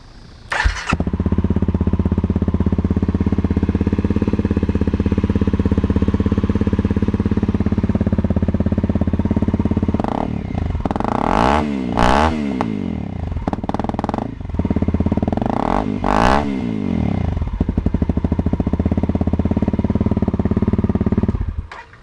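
A Honda CRF250L motorcycle fitted with an FMF Powerbomb header exhaust runs steadily at a loud idle close by, with two brief throttle blips that rise and fall around the middle, then settles back to a constant drone.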